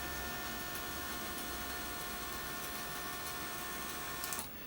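An electric motor driven by a Gertbot controller board ramps from zero to full duty cycle, giving a steady whining electrical hum with faint tonal buzz that continues throughout, ending with a short clatter.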